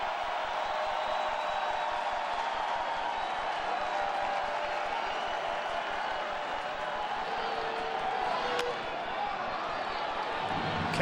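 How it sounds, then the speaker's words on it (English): Baseball crowd at a Giants-Cubs game in Chicago applauding on a sunny April afternoon: a steady, distant wash of clapping that holds evenly throughout with no distinct voices. "And the fans are applauding."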